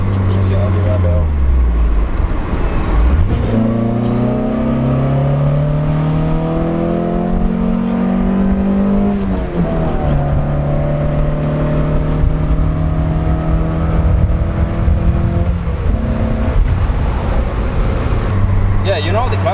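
A 1991 Mazda Miata drives along, its engine loud and near as revs climb through gears in repeated rising sweeps, with road noise underneath and people talking over it.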